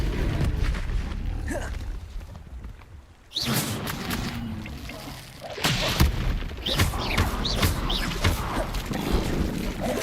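Confringo explosive spell in Hogwarts Legacy, a sudden booming blast that breaks a quieter stretch, followed by a second burst and a sustained rumbling, crackling aftermath with game effects.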